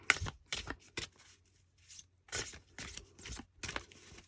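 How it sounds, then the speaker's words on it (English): Oracle cards being shuffled by hand, a run of quick papery riffles and slides in short bursts with brief pauses between them, close and fairly quiet, with no talking. "giving them a bit of a shuffle now"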